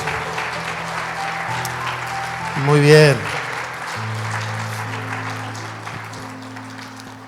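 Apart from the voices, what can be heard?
applause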